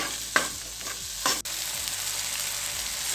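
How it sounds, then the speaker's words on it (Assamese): Tomatoes with coriander and cumin powder are stirred in a pan for a fish gravy, with two brief spoon scrapes over a steady frying sizzle. "এতিয়া ইয়াত মই ধনিয়া গুড়ি পাউডাৰখিনি দি দিছোঁ। জিৰা গুড়ি পাউডাৰখিনিও দি দিছোঁ। দি আকৌ লৰাই দিছোঁ।"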